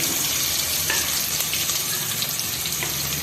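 Sliced onions hitting hot garlic in a pan for a mutton dish, giving a steady, close, loud frying sizzle with faint stirring and no talk.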